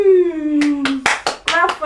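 At home, a voice speaks briefly, then hands clap about six times nearby, sharp and loud, in a quick uneven rhythm.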